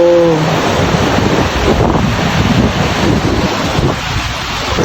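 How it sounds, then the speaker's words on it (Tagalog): Strong wind roars continuously across the microphone on an open hillside at Wawa in Montalban, a loud, steady broadband rush with brief tonal hums near the start and no speech. "mahangin, ang simoy ng hangin, ang sarap, at ang lamig"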